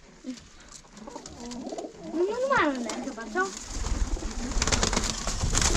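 Pigeons in a loft with an aviary give a few close, swooping coos under a voice, then a broad rustling noise takes over near the end.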